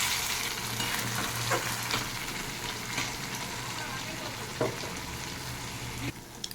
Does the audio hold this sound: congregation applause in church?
no